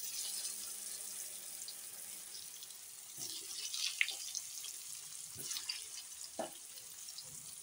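Lentil batter fritters fry in hot oil with a faint, steady high sizzle, broken by a few soft clinks and taps from a utensil, quiet and continuous without speech.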